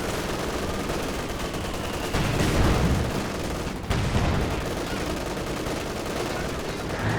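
Machine-gun fire from Panther tanks rattles through a Company of Heroes 2 battle as a dense, continuous barrage under other battlefield noise. A voice talks over it.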